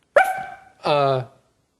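A person imitating a dog barking: two short vocal barks, the first sharp and yelping, the second a longer tonal bark, close and clear with silence between.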